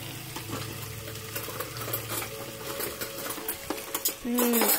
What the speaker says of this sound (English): Now we're going to add them, stir up the sauce a little.